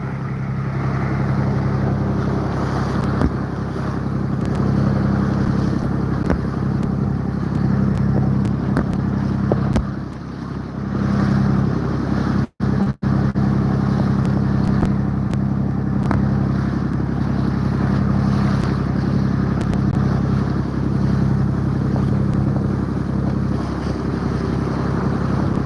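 A boat being towed in on open water after its engine was shut down gives off a steady wash of wind and water noise with a low rumble, broken by one brief dropout midway.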